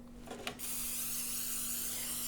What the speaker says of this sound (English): I'm just going to go ahead and spray the pan